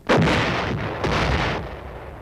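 A U.S. Army howitzer fires, giving a sharp, loud blast followed by a long rolling boom that echoes and fades over a couple of seconds, with a second thump partway through.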